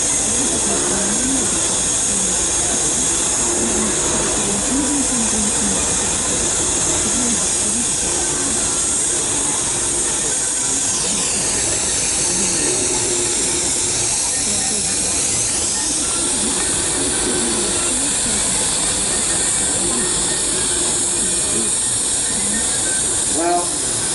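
Steam traction engines lined up in a show arena at a steam vehicle rally give off a continuous loud hiss of escaping steam, a steady broadband rush that runs the whole time with a faint murmur of voices underneath.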